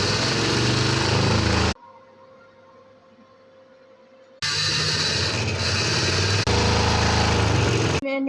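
A sewing machine stitches seams on a pair of shorts, running loud and fast in rattling bursts separated by a quiet pause.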